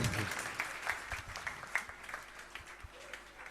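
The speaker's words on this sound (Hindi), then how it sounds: "जय हो, ताली बजा दो।" An audience at a Bhagwat katha breaks into applause, a faint, steady patter of clapping with a few louder claps scattered through it.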